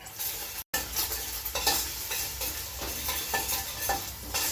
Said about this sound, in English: we're just going to saute that until the garlic becomes lightly golden